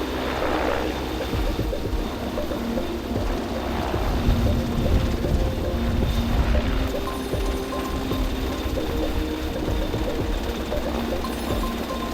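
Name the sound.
Canadian rescue helicopter landing during rescue exercise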